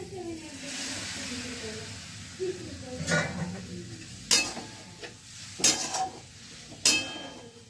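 Pasta is stirred in a pan, with a low sizzle under several sharp scraping and clattering strokes of a utensil that land in irregular bursts, close and fairly loud.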